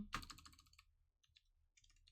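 Typing on a computer keyboard, a quick burst of clicking keystrokes followed by a few lighter scattered taps, close and fairly quiet.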